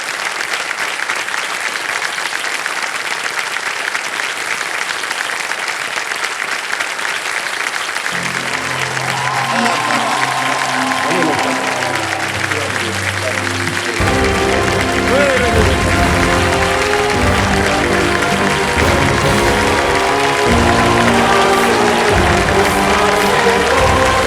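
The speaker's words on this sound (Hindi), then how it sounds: "नाना पाटेकर जी का तालियों के साथ स्वागत किया जाए" Studio audience applause on the KBC game show welcoming actor Nana Patekar, a full steady clapping that swells as loud music with a thumping beat joins partway through.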